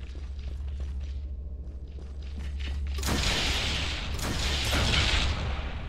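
A heavy rocket blast booms in an N.O.V.A. Legacy multiplayer match, a deep rumbling burst at about three seconds that swells over a low steady drone and dies away slowly, with no talk.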